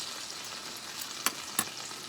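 Peach pies fry in hot grease, giving a soft continuous sizzle and crackle with two sharp pops near the end, quiet and close with no talking.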